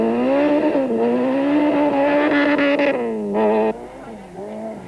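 A 1600cc Volkswagen Conquest rally car racing at a 1991 rally, its engine note loud and close as it revs and shifts pitch, with a sharp drop in level near the end as it pulls away.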